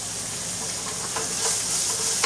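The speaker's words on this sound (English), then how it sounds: "I'm adding the ginger garlic first, and then the onion" Ginger garlic and onion hit hot oil in a pan, producing a steady, close, broadband sizzling hiss that swells slightly toward the end with no talking.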